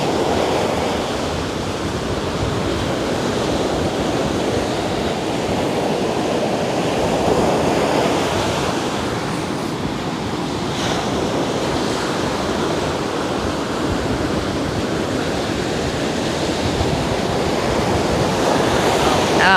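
Strong wind roars across the microphone over a steady wash of waves for nearly twenty seconds, loud and continuous with gusty surges and no talk.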